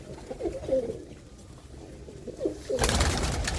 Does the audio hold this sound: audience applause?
no